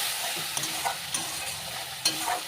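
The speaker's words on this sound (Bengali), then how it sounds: "মশলাটাকে আমি এখন একটু ভেজে নেবো সাথে একটু চিনি দিয়ে দেবো" Spice paste frying in a pan with a little water and a pinch of sugar for a vegetarian mutton-style curry without onion or garlic, a steady soft sizzle with a few scraping stir strokes, close and alone.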